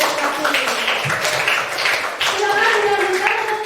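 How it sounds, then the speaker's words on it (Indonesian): Classroom applause for a group of students, a dense burst of many hands clapping throughout, with voices talking over it. "tepuk tangan untuk kelompok yang sudah maju berprestasi"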